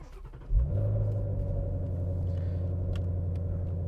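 A Ford Mustang Shelby GT350 engine starting up: a short crank, then a loud catch into a deep, steady, rumbling idle that holds close and strong to the end.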